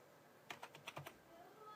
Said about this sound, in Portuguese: eu vou digitar só com uma mão